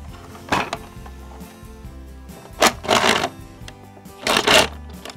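A plastic Polly Pocket toy dollhouse elevator rises to the second floor with three bursts of ratcheting, clicking mechanism noise, close by, separated by quieter pauses.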